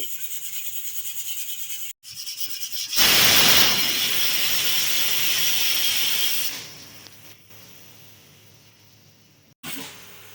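Steam hisses steadily out of a pressure cooker after cooking mung dal, loud and broadband, surging strongly for a few seconds midway, then easing to a softer hiss, with brief cutoffs. No talk over it.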